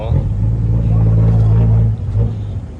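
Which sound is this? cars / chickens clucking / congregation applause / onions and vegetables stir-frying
cars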